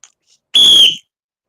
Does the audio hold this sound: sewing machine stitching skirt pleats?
no